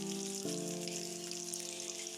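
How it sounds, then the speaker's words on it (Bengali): Whole dried red chillies, split green chillies and nigella seeds frying in leftover fish oil, a steady close sizzle and crackle that runs throughout, with a faint tonal hum underneath and no talking. "এবার ওই মাছ ভাজা তেলেই দিয়ে দেব গোটা শুকনো লঙ্কা আর কিছুটা কাঁচা লঙ্কা চিড়ে আর সামান্য কালো জিরে"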